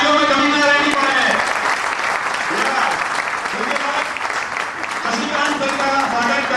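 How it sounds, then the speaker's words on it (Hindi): A crowd gives loud, sustained applause at a May 2010 gathering as a leader from Baroda is welcomed. The clapping runs steadily for several seconds, with a voice and other sounds faintly mixed beneath it. "जोरदार तालियों में कमी ना रहनी पड़े।"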